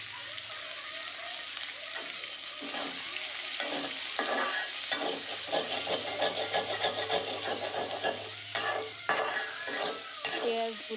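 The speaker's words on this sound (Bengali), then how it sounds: "তারপর ওই কড়াইতেই পেঁয়াজ দিয়ে দিলাম।" Onions fry and sizzle in a wok (kadai) for egg korma, with a steady hiss under repeated scraping stirs from a utensil; a low hum runs through the middle, and no one speaks.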